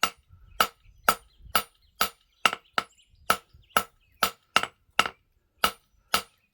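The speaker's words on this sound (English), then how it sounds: "so you see where my shine is, where I'm stopping my hammering." Hammer blows on hot metal during a forging exercise, about twelve sharp ringing strikes at a steady, slightly uneven pace, close and clear with no talk.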